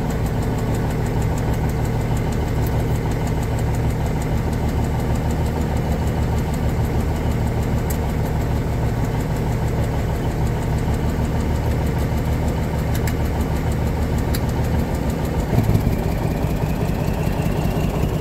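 Cummins Big Cam diesel engine running in a 1985 GMC General truck, a loud, steady idle with a rough, knocking rumble and constant vibration throughout, close by and without talk.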